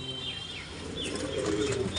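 Pigeons cooing in a loft, a low steady coo with soft chirps and some wing movement, close and moderately loud; no talking.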